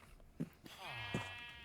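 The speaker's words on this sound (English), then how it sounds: "One cyan sheep." A Minecraft sheep gives a drawn-out, wavering bleat, close and clear, with a couple of soft thumps before it.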